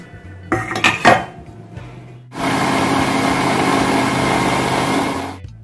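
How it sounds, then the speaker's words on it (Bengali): A kitchen blender grinds soaked flattened rice and coconut, a steady loud whirring motor running for about three seconds after a few clinks of the jar and lid being set in place, with no voices. "এবার ব্লেন্ডারে দেব ভেজানো চিড়ে আর নারকেলের গুঁড়ো ভিজিয়ে রেখেছিলাম সেটা"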